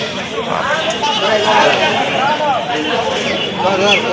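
Goats bleat repeatedly in wavering cries over a dense background of crowd chatter at a busy cattle and goat market in Dimla.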